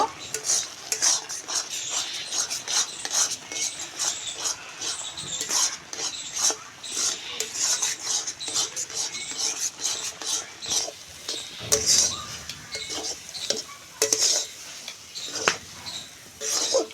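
Semolina and water are stirred in a pan into a dry dough, a spoon scraping and clinking against the metal in quick, irregular strokes over a faint sizzle, close up and continuous.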